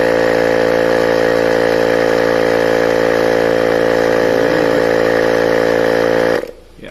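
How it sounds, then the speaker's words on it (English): A Bergmann Typhoon analog tyre inflator pumps air with a steady, loud motor drone and rhythmic compressor hum that runs unbroken for several seconds, then cuts off abruptly near the end. "the rate or speed at which it's pumping the air in"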